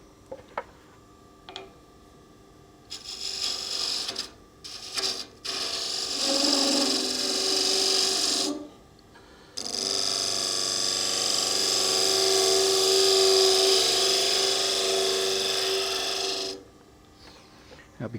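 A bowl gouge cuts into a small wooden nut bowl turning on a lathe, producing bursts of scraping, ringing tool chatter that start and stop with short gaps, then a long sustained cut close to the listener.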